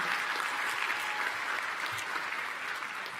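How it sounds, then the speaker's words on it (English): Audience applauding during a speech, a steady wash of many hands clapping at moderate distance, continuous and even for a few seconds with no voices over it. "I'm going to talk through applause."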